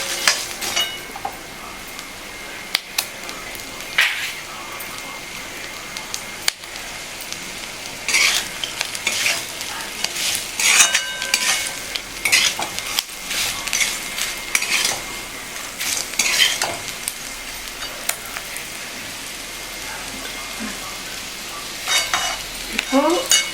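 Chilli chapathi masala is stirred in a hot pan, a sizzling fry under repeated scraping and clinking of a metal spatula against the pan, close and uneven in rhythm.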